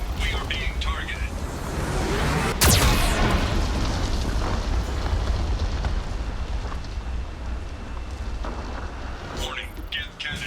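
A Geth cannon blast from the video game Mass Effect 2 erupts as one sharp, loud boom, then rolls on as a dense rumble with fainter crackling, under game speech and background noise.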